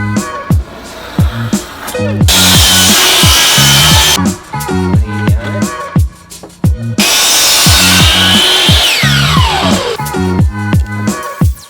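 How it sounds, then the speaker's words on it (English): An electric power saw trims about half an inch off wooden closet shelves in two loud, sustained cuts of several seconds each, with rhythmic background music running between and beneath them. "We're gonna have to trim these down. Yeah, I'll go get my saw."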